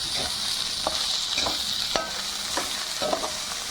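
Bitter gourd and cut tomato stir-fried in a pan over low flame, a steady close sizzle with intermittent scraping clicks of a spatula, no voices.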